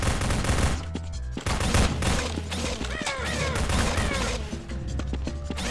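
Codename: Gordon game gunfire crackles in dense, continuous volleys mixed with busy in-game effects and occasional crashes, loud and close throughout.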